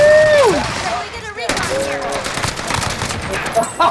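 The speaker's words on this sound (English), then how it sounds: "Taking heavy fire!" Heavy gunfire in a video game battle, with dense overlapping bursts of shots rattling continuously for several seconds, loud and close, and a brief lull partway through before the firing resumes.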